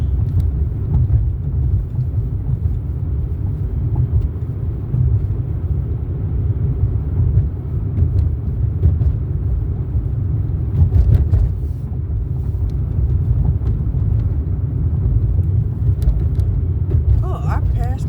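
A car drives along a road, its interior rumble and road noise forming a steady low drone throughout, while faint occasional knocks sound over it.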